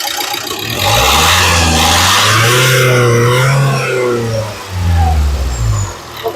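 A 2016 Renault Duster RXZ 4x4 engine revs up loudly and holds a high, rising whine, then drops back and briefly revs again before settling toward idle.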